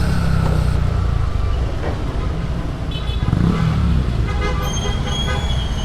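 Dense road traffic of cars and motorcycles on a congested street, loud and continuous engine rumble close by with passing vehicles and several short horn toots scattered through, no clear voices.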